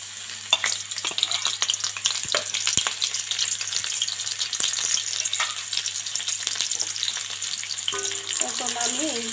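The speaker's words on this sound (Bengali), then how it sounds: "এখন আমি এই আদা রসুন কুচিগুলো 1 মিনিট ভেজে নেব" Chopped ginger and garlic fry in hot oil for a fried rice and chicken chili dish, a steady close sizzle with frequent scraping stirs and a low hum underneath; no one speaks.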